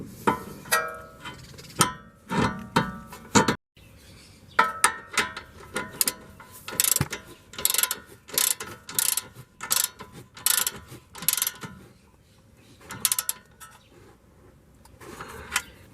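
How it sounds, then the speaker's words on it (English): Repeated metallic ratcheting clicks in uneven bursts as a wrench works the 22 mm tie rod nut on a 2011 Honda Civic, close and fairly loud, with short pauses between strokes and no talking. "You can use a wrench and tighten it up."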